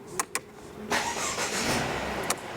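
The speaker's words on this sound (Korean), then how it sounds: "일단 시동을 한번 걸어 볼게요." A 2014 Mercedes-Benz E200 Cabriolet's engine cranks and fires after a couple of sharp clicks, settling into a steady close idle with a brief tap near the end.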